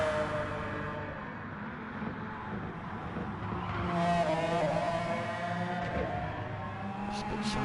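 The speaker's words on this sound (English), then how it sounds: "Sounds a bit like a Formula 1 car" A McLaren race car engine in a racing video game drones and revs at high pitch on the Conrod Straight at Bathurst, swelling louder midway as it climbs through gears, continuous and fairly close.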